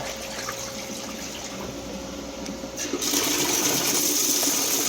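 Food being rinsed clean of sand under running tap water, a steady broadband wash of flowing water that grows louder partway through, with no voices.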